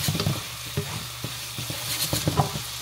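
Pancit noodles stirred and fried in a pan, a steady sizzle broken by repeated scraping strokes of a utensil, close and moderately loud.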